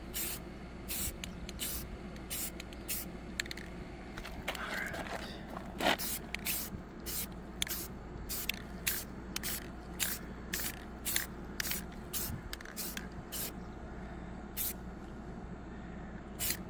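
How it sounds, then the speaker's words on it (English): Short repeated bursts of an aerosol spray can hissing, about a dozen quick sprays in an uneven rhythm, close to the microphone, with faint handling noises between. "let's try the first coat of this spray paint that I got"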